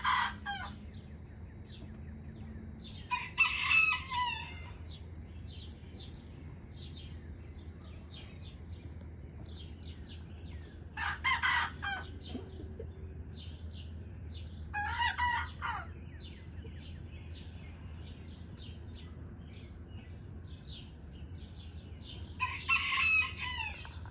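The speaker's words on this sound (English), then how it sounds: "listen to them as they are trying to learn how to do what roosters do" Young roosters attempt to crow, giving several short, scratchy, unfinished crows spaced apart over a low steady background hum, fairly close and alone.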